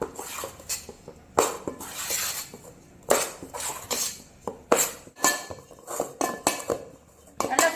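Metal plate set down over a steel pot to cover steaming kolukattai dumplings, a series of sharp clinks and clatters of metal against metal at close range.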